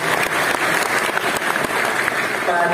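Audience clapping during a Ramadan talk at Universitas Gadjah Mada (UGM) campus, a continuous loud burst of many hands sustained throughout, close and full, with no speech on top.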